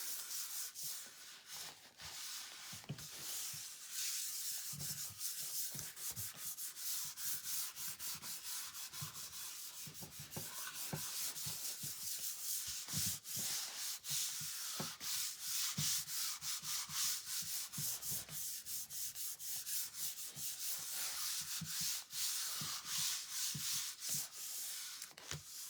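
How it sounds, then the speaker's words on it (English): Continuous close rubbing and scraping as paper is burnished down onto a wooden knife block by hand, rapid back-and-forth strokes steady for the whole stretch without any voices. "now I'm going to just burnish it down really good"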